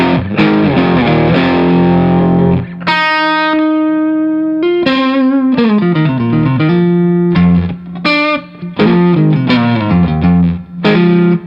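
Electric guitar through the Tubedreamer side of a JAM Double Dreamer overdrive on the neck pickup, playing loud, warmly distorted chords and sustained notes in uneven phrases with brief gaps.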